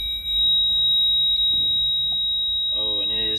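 A truck cab with a faulted DEF system sounds a continuous high-pitched warning beep, loud and steady, with a rougher buzzing tone joining near the end and some background noise underneath.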